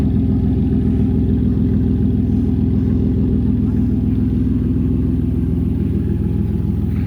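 A car engine runs steadily and loudly at close range while a son drives it slowly in reverse, with a constant mid-range rumble and no clear revving peaks.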